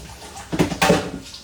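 Tap water splashing as masala is washed off hands at a kitchen sink, two short bursts of gushing water over a quiet room.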